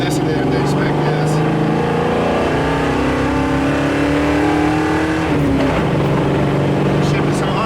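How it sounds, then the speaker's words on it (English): A 1969 Ford Bronco with a three-on-the-tree column shifter drives along. The engine drone climbs steadily in pitch, then drops with a gear change about five seconds in before pulling again, loud and close from inside the cab. "a 1969 Bronco, 3 on the tree, test drive and teaching session"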